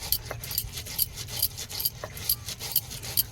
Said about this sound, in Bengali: আতক চাল মা শিলে বেটে নিচ্ছে দেখো